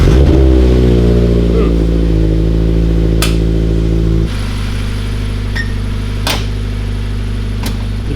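The engine of a Mitsubishi Lancer Evo cold-starts and settles into a loud, close idle with throaty rumbling, with a few sharp clicks and knocks over the top.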